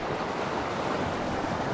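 Creek water near a waterfall rushes steadily in a dense, unbroken wash of noise, close and fairly loud, with no voices.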